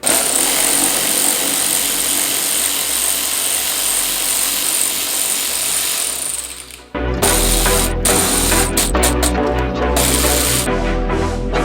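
Power driver backing out T15 screws from C5 Corvette taillights, loud whirring and ratcheting bursts, with a brief pause midway before more short stuttering runs of the tool.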